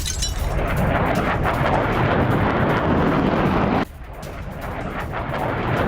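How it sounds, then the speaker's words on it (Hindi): Heavy rumbling explosions from bombing by Russian fighter jets on Syrian rebels, a loud, dense roar with deep booms that runs continuously, dips sharply at one point, then builds again. "जोखिम के बीच रूसी फाइटर जेट की बमबारी"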